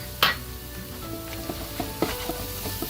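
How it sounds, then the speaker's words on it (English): Ginger garlic paste with turmeric and chili powder fries in a pot over low flame, giving a close, steady sizzle broken by a sharp initial clatter and a few light stirring knocks, no voices. "we're going to add the ginger and garlic paste, turmeric powder, and as much chili powder as you like"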